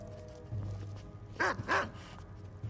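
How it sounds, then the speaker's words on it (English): A husky named Potter gives two quick, close barks in succession, loud against a quiet room hum. "And then we have this little dog."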